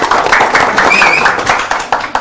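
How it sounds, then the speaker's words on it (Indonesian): An audience claps for Kang Asdin at a business founders' gathering, a brisk burst of many hands applauding together, loud and close, with a voice briefly audible within it. "Tepuk tangan buat Kang Asin"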